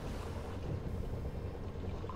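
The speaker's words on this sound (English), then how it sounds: "We are really struggling with the waves" A steady wash of sea and wind surrounds a U-boat fighting rough waves in Silent Hunter 3, a dense low rumble that holds at an even level through a short stretch, with no talking.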